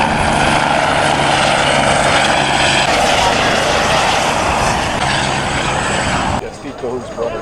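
A multi-use military cargo aircraft flies past at the 2023 Cleveland National Air Show, its loud, continuous engine drone filling the scene while a voice talks over it, before the roar drops away abruptly near the end.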